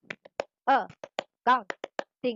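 A quick rhythmic clapping chant from an accounting lesson: sharp single claps in a patterned beat alternate with short sung or chanted syllables from a voice.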